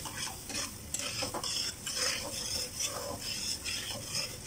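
A steady bubbling sizzle from sugar syrup boiling in a pot on the stove, with faint clinks of a utensil stirring now and then.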